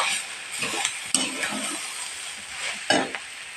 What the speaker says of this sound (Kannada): ಇವಾಗ ಈಗ ತಾನೇ ಹುರ್ಕೊಂಡಿಟ್ಕೊಂಡಿರೋ ಗಜರಿನ ಹಾಕೋತಾ ಇದ್ದೀವಿ. ಇವಾಗ ಇದನ್ನು ಮಿಕ್ಸ್ ಮಾಡ್ಕೊಳ್ಳಿ.